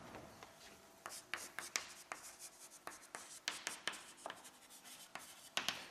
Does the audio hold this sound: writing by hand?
yes